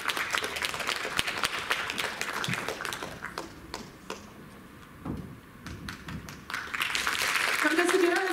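Applause from a concert audience at a festive show in a Novosibirsk culture hall, scattered sharp claps over a talking voice, dipping briefly in the middle before swelling again toward the end.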